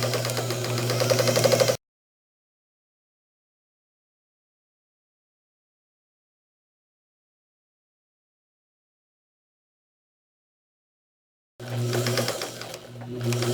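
A sewing machine stitches a plain quarter-inch seam on a quilt block, a short burst of fast mechanical whirring that breaks off into a long silence, then starts up again near the end.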